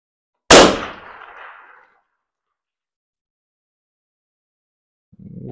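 A single rifle shot fired with a 1975 Soviet-made .308 Win cartridge at a paper target outdoors in rain, one loud sharp crack with a short rolling echo, then silence before a faint low rumble.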